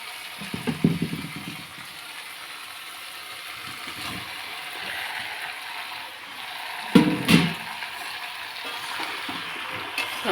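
Goat meat sizzling and being stirred in a pan, with a low steady frying hiss and sharper bursts of scraping and clattering near the start and again about two-thirds through; no voices.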